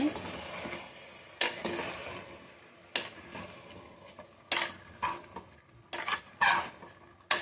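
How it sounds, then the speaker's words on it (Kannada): Toor dal (pigeon peas) frying in oil in a pan, a quiet sizzle broken by repeated sharp scrapes and clinks of a spoon stirring against the metal, coming in irregular bursts. "ಇದು ಒಂದು 2 ನಿಮಿಷ ಈ ಆಯಿಲಲ್ಲೇ ಫ್ರೈ ಆಗಬೇಕು."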